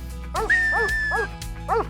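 A working dog barks on command with four sharp, evenly spaced barks close by, while a long whistle tone sounds over a low rumbling background.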